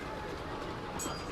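A mini scale ride-on train running along tiny tracks, a steady close rumble with a brief high squeal near the end, no voices.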